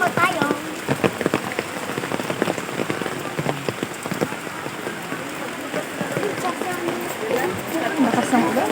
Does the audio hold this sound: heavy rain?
yes